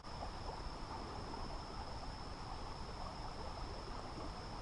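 Water flows in a creek at a fishing pool in a steady, even rush that continues without a break. It sounds moderately near and there are no voices.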